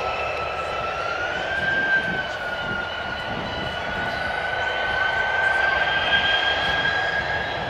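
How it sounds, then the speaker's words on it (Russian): Sukhoi Superjet SSJ100 jet engines spooling up before takeoff at the MAKS 2017 air show, a loud sustained roar with a rising whine that holds steady and swells slightly toward the end. "Вы слышите, пошли обороты, отпускают тормоза"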